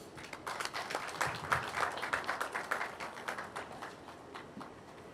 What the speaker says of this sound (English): So with a big round of applause, please let's welcome Aku Sika Frimpoma.